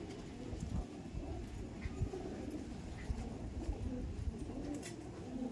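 Andhra pigeons kept in a cage coo softly with low, murmuring calls in a steady run, over a dense, rustling background of shuffling and fluttering.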